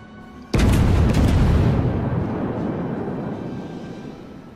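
A Konig battleship's main guns fire in World of Warships: one sudden, loud, deep boom that rolls into a long, slowly fading rumble.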